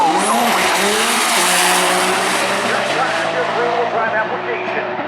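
A 2009 Nissan GTR race car tears down the track at a Maryland International Raceway drag racing event, its loud engine roaring and climbing in pitch with squealing tires, a voice faintly audible underneath.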